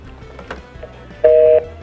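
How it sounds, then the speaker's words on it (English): Telephone line signalling on a failed call: a short burst of steady paired tones rings out loud and clear for about a third of a second after faint background noise. "Oh, the phone is not working."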